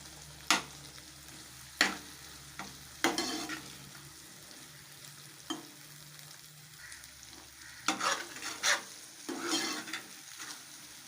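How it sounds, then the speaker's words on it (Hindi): Potatoes frying in a pan while being stirred, with soft continuous sizzling broken by a series of sharp scraping strokes of a spoon, some single and some in quick clusters. "अब इन आलूओं को मैंने अच्छी तरह भूनना है।"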